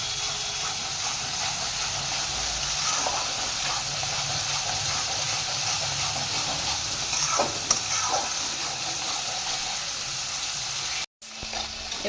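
Spice paste fries in oil for pabda fish curry, a steady loud sizzle and hiss with occasional stirring scrapes, then a sudden cut near the end.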